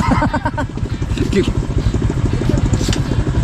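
A motorcycle engine runs close and loud on a road, its steady, throbbing drone holding through the whole moment with faint voices mixed beneath it.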